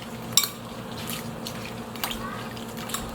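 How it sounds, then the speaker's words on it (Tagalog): Raw chicken seasoned with salt and pepper being stirred in a bowl, with a sharp clink of utensil on the bowl early on, soft wet scraping and occasional lighter knocks against a quiet kitchen background. "Haluin lang natin."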